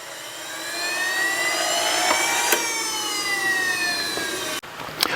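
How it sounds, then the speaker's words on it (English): A small jet turbine engine winds down into its cooling phase, a loud, close whine with tones sliding steadily lower, then an abrupt drop near the end followed by a softer airy rush. "Turbine itself still goes into cooling phase."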